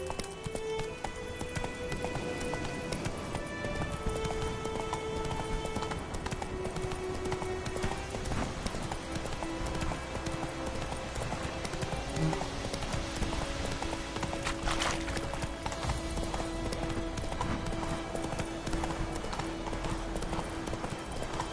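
Horse hooves galloping in The Witcher 3: Wild Hunt, a continuous rhythmic clip-clop under game music that keeps on without a break.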